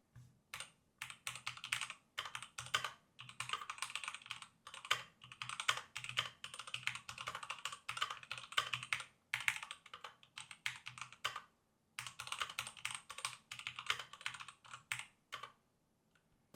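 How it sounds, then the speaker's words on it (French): Someone types steadily on an MSI Vigor GK41 mechanical gaming keyboard, producing bursts of close, crisp key clacks separated by short pauses. "comme on est sur un clavier mécanique, ça fait forcément du bruit"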